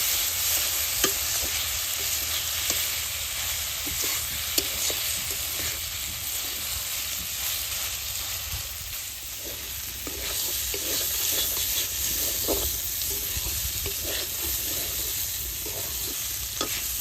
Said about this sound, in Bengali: লবণ ওই দিই, অল্প শুকনো মরিচের ফাঁকি